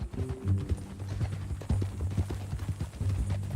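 Horse hooves clopping at a walking pace over a low rumbling hum, fairly close, with no voices.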